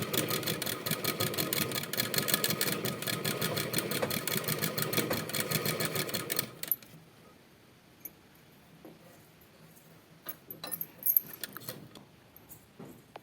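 A pedal-operated sewing machine stitches a kerchief during a beginner tailoring lesson, running as a steady, loud mechanical rattle for about six seconds before stopping, leaving quiet with a few faint clicks and handling noises.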